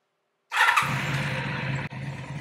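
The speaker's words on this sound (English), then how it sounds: "we're going to start the motorcycle" A motorcycle engine, hooked to a remote fuel supply and a carburetor vacuum synchronization gauge, cranks with a squeal and catches into a steady close idle, briefly dipping before settling again.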